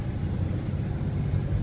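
A truck being driven, its engine a steady low rumble with road noise, close and continuous and alone with no voices.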